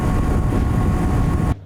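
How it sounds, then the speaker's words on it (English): An adventure motorcycle engine runs steadily at highway speed, a loud continuous drone with wind rush that cuts off abruptly near the end. "This engine can handle it."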